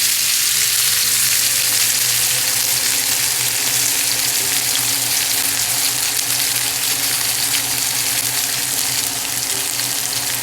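A bone-in ribeye roast searing in a hot pan, a loud continuous crackling sizzle that holds steady from start to finish with no talking.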